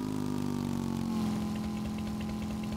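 A motorcycle engine in the video game Empyrion runs close and steady, a low, buzzing drone with a slight rise in pitch partway through, no voices over it.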